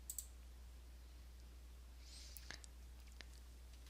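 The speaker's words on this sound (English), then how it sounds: "so I'm going to click on remove" A few quiet mouse clicks land on a remove button, small sharp taps spaced apart over a faint steady hum with no talking.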